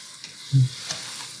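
Tomato paste added to vegetables in a pan for spaghetti meat sauce, giving a soft steady sizzle with one brief low thump as it goes in, close and without talk.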